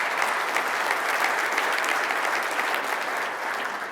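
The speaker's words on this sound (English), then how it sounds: "So how about a round of applause for Nutanix support," An audience at a Nutanix .NEXT 2016 Europe tech conference claps in a thick, even burst of applause that holds steady and only eases slightly toward the end, with no speech over it.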